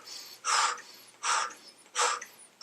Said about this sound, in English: you're going to breathe all the way out and then start breathing in pretty strongly